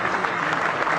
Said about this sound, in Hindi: वो जोरदार तालियां बजाए एक बार